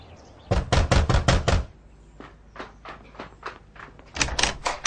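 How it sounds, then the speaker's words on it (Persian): Knocking on a door: a fast run of about six loud knocks, a pause, then several softer, spaced raps and a final quick burst of knocks, with no voices heard. "آیا کلید نداری که تق تق میکنی؟"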